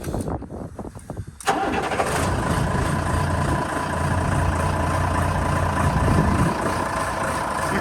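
A large diesel truck engine cranks briefly on new batteries, catches with a sudden roar, then settles into a loud, steady idle with the revs rising slightly.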